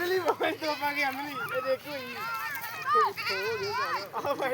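Goats in a Punjabi village bleat repeatedly in wavering, tremulous calls close by, mixed with the shouts of children playing cricket nearby.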